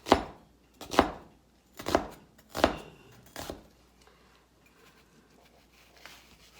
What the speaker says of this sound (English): So I'm going to be dicing my onion. This is an Inuit women's knife.